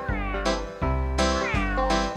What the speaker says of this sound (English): the cat went fiddle-i-fee